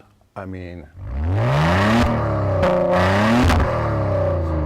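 A tuned sports car exhaust revs loudly and sustains a deep, rising engine roar with a couple of throttle blips, close by, while a person talks briefly at the start.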